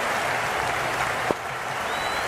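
Spectators at an India versus Australia T20 cricket match clap and roar in a continuous wash of stadium crowd noise, with one brief thump partway through.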